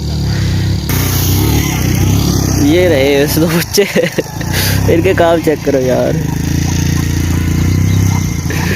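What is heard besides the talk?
motorcycle carrying grass passing on wet village road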